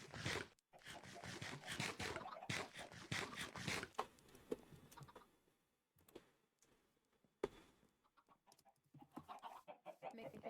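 Chickens clucking in a snowy survival video game, a run of loud, close, rhythmic clucks and bursts, then quieter scattered clucking with pauses.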